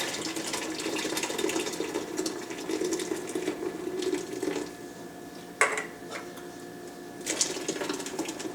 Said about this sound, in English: we're also going to add 3 small cans of Dr. Pepper, the little mini cans, or you can add 2 big cans